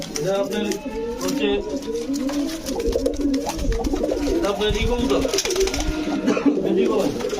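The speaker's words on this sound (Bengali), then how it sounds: "বেজিগলাই কবুতর না" Pigeons coo repeatedly and loudly at a market selling fancy breeds such as Budapest and Teddy pigeons, the throaty calls rolling over one another while people talk in the background.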